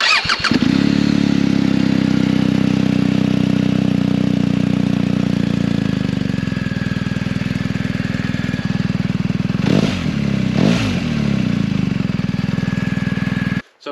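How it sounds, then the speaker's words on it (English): BMW R 1250 GS Rallye X boxer-twin engine with an Akrapovič muffler, idling and running with a steady, deep exhaust drone close by, two short throttle blips near the end, alone without talk. "great little acro muffler on there, and I think it's probably the best sounding Boxer that I've ever ridden"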